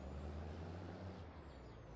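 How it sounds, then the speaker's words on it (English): A laboring truck engine in Farming Simulator 22 drones steadily at a low pitch, loud and continuous, with a faint high whine running over it and no talk. "Ooh, truck is struggling."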